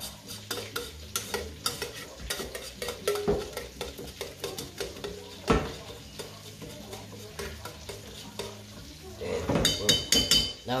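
A spoon rapidly mixes butter garlic sauce with pepper flakes in a bowl, a dense run of quick clinking and scraping strokes at close range, busier and louder toward the end, with a faint voice occasionally underneath.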